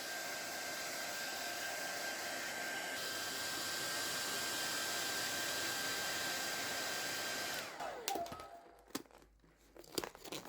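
Heat gun blowing steadily on vinyl wrap film during interior car trim wrapping: a loud, even airy roar with a faint whine for about eight seconds, then it cuts off, leaving scattered crinkles and handling noises.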